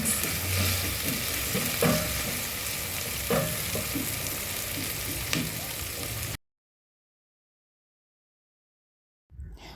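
Onions with ginger and garlic paste fry in a pot for a stew, making a steady close sizzle broken by a few stirring scrapes. The sound cuts off abruptly into silence, and a little noise returns at the very end.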